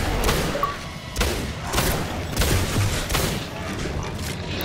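Gunshots from the video game Singularity as a player fires at barrels, several sharp cracks and thuds repeating at uneven intervals over a busy, rumbling game background.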